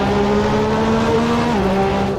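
A 1992 McLaren MP4-7 Formula 1 car in Assetto Corsa screams loudly and continuously, its engine note holding high then shifting pitch with a gear change.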